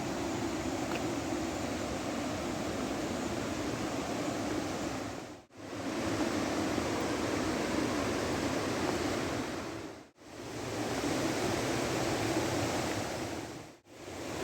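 Makeli Ella waterfall in Sri Lanka, about 30 feet high and feeding a hydroelectric plant, pours as a steady, dense roar of rushing water that holds level throughout, with a few brief near-silent gaps.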